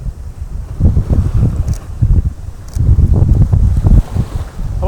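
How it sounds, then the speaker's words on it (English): Strong wind buffets the microphone in uneven gusts alongside surging ocean waves on a rainy Mentawai Islands shore, loud and rough throughout with no talking. "I don't know if you can actually hear me because of the wind and the sound of the waves and the wind and stuff"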